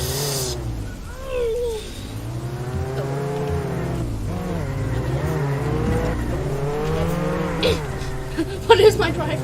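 Loud car engines rev and whine in the Roblox game Jailbreak, pitch sweeping up and down through repeated accelerations and gear changes, with a brief clattering burst near the end.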